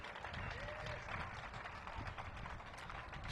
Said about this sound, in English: Let's give Diane Barnes a round of applause.